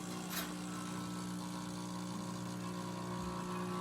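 A Nuova Simonelli Musica espresso machine, just back from electrical repair, pulls a shot with its pump giving a steady, faint mechanical hum that holds unchanged for a few seconds.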